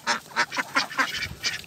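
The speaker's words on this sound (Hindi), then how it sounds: "ये सारे बत्तख हैं" A small flock of ducks quacks in quick, repeated bursts, close and fairly loud, with the calls overlapping as they are fed rice.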